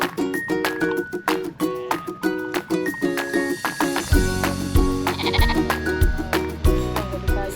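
A large herd of goats bleats repeatedly as it is driven along in Jerowaru, with overlapping nasal cries over a steady bed of background music and shuffling noise.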